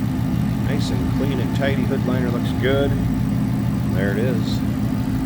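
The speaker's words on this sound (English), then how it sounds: "A little rumble out of that 5-liter." A Roushcharged phase 2 kit 5-liter V8 in a 2015 Ford Mustang GT coupe idles with a steady, close low rumble throughout, while people talk over it.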